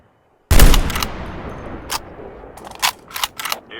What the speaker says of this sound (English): Somebody else is shooting at me.